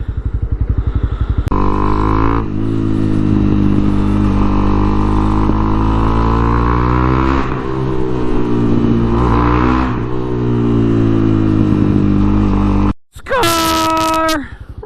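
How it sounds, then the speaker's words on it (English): A 2021 Honda CB300R with a Yoshimura exhaust idles and revs loudly up close, its throaty drone rising and falling through several blips, then a brief sharp rising whine near the end. "you can hear what the Yoshi exhaust sounds like"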